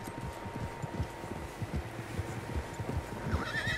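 Several horses whinny and neigh in the video game Red Dead Redemption amid a busy bed of hooves clip-clopping and low rumbling, fairly close, with a faint steady hum underneath.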